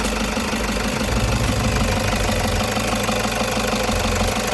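A 2015 automatic car's engine idles steadily nearby, a constant rumbling hum with a faint mechanical ticking, loud and unbroken throughout.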